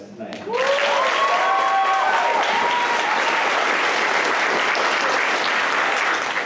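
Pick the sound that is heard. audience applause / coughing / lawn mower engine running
audience applause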